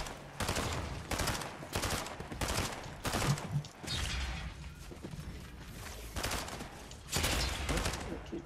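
Gunfire in a video game comes as rapid, loud volleys of shots in rhythmic bursts throughout, with voices talking over them.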